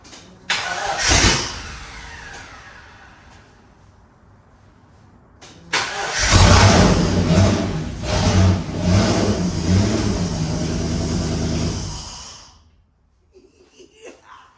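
A Holden VK Commodore Brock tribute car's engine cranks with a short burst, falls quiet, then starts and revs loudly for several seconds before shutting off abruptly, close to the microphone.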